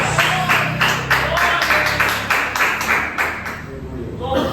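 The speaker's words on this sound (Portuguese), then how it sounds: "Eu até agradeço essas palmas" Church congregation clapping in rhythm, steady evenly spaced claps repeating for several seconds at moderate loudness, with a voice briefly audible alongside before the claps fade.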